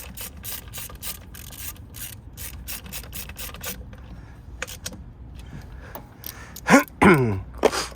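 A hand ratchet snugs up intake bolts, with quiet rapid clicking bursts and rubbing metal, then a few louder ratcheting strokes near the end.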